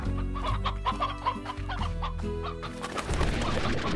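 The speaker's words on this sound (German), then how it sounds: "Noch mehr Hühnchen." Several chickens clucking close by in the video game Slime Rancher, a run of short repeated clucks that gives way to a scuffling, noisier patch near the end.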